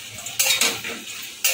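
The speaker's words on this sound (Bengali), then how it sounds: "অনবরত নাড়তে থাকবো, যেহেতু এর মধ্যে মধু দেওয়া আছে।" Fried chicken pieces are stirred through a honey sauce in a pan, with a few sharp utensil scrapes and clinks over a soft background sizzle, close and brief.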